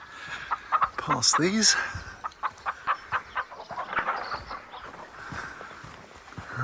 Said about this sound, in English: Noisy buggers. There's the chicken coops on your right.